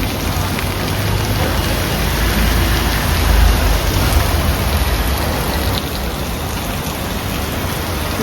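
Heavy monsoon rain pours steadily, a dense, loud hiss of drops with no pauses and no voices.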